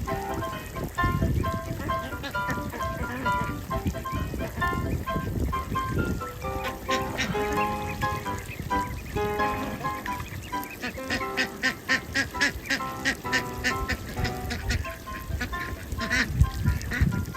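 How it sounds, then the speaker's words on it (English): Ducks quacking and a goose honking while swimming, a busy stream of repeated calls and honks over splashy background, clustering into rapid bursts toward the end. "Those ducks are having such a good time. They are enjoying their swimming party."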